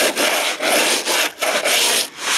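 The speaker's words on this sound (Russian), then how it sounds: "Сейчас я скребу маленько." Steady, loud back-and-forth scraping of rust on a Citroen C5 sill, four long rasping strokes with short breaks between them, close up with no talking.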